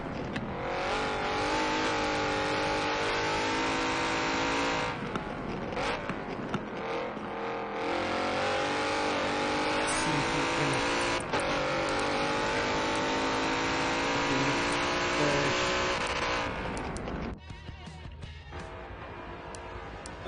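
A race car in a sim racing sport touring qualifying session takes a chicane, its engine whining steadily, dipping and rising through downshifts and revving back up, then dropping off near the end.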